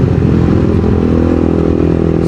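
A Thai-built Honda CBR 150 sport motorcycle engine runs loud and close while riding, a steady, even mid-pitched drone holding constant for a couple of seconds with no talk over it.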